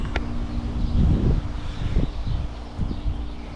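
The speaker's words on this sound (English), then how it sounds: "it's windy, so if you hear some background noise" Low wind gusts thumping against the microphone in uneven bursts, a brief outdoor rumble in a fall garden with no talking.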